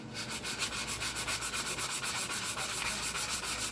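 Quick, regular scratchy rubbing strokes of sandpaper on a wooden J Bass guitar body, steady and close, repeating evenly throughout without pause.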